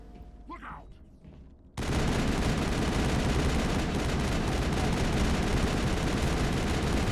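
Sustained rapid gunfire from a shooting sequence in the Mass Effect video game erupts loudly after a quiet opening and continues as a dense, continuous barrage to the end.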